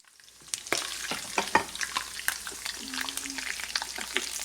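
Ginger garlic paste, green chilies and curry leaves sizzle and crackle in hot oil as a tempering for karhi, a steady frying hiss with sharp pops and spits, close and fairly loud, no talking.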